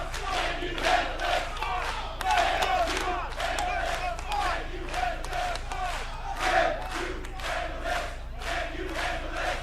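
A wrestling crowd at Full Sail University cheers for Rich Swann with loud, sustained shouting and rhythmic bursts of clapping or chanting, rising and falling in waves throughout.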